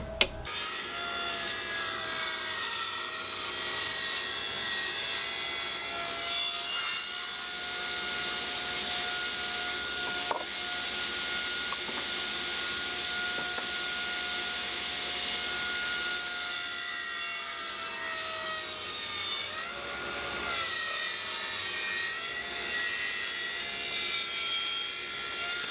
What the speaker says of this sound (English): now I can flip it over and cut the other half like that